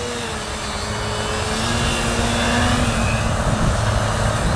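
A radio-controlled model airplane's engine drones steadily at a low, hovering height outdoors, its pitch easing up and down as the throttle is worked, with wind rushing across it and growing slightly louder toward the end.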